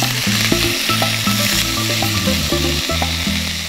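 Mustard seeds, ginger and garlic fry in a hot pan for a Chettinad vegetable curry, a loud close sizzle with a steady hiss under it and a low tonal hum running through, no talking.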